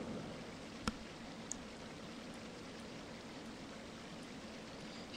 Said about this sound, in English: Let's make some waves.